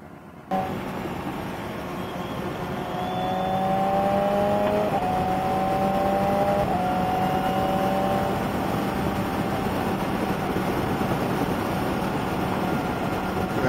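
A BMW motorcycle fitted with an SC Project exhaust riding along, its engine droning steadily and rising in pitch as it accelerates through gears, heard amid continuous wind rush with no talking.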